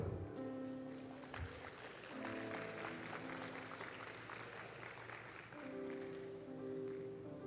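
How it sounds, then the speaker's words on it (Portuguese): A church congregation claps steadily through a morning service, the dense applause running the whole stretch over a sustained organ-like keyboard chord, at moderate distance. "Aplaude ao Senhor nessa manhã."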